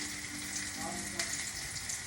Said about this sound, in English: Now we can see there's a bit of browning on this sizzling onion.